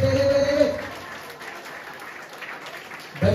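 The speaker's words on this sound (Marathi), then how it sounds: "चर्च टाळ्या वाजवून जोरदार परमेश्वराला धन्यवाद द्या" A church congregation breaks into applause, a broad wash of clapping that swells and then thins out over a few seconds, with a voice speaking briefly at the start and end.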